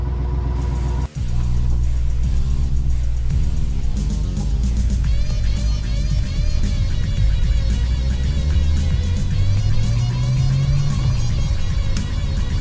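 A C4 Corvette with a ZF 6-speed manual out on a test drive, its engine rumbling loud and steady, revving up through the gears with rising and falling tone after a brief dropout near the start.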